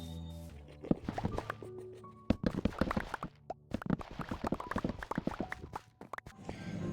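A horse is ridden in the Minecraft video game, its hooves clip-clopping in a quick, uneven patter of soft clicks at fairly low volume, with no talking over them.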